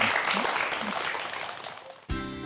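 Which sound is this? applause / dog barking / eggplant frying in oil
applause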